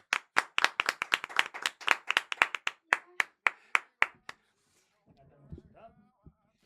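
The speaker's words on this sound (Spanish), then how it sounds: "Un aplauso." A studio audience gives a guest a quick burst of applause, a run of crisp claps that thins out and stops after about four seconds, followed by faint talking.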